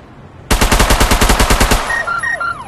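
Rapid automatic gunfire from the VR game Battle Glide: a loud burst of about a dozen evenly spaced shots lasting over a second, followed by descending electronic tones.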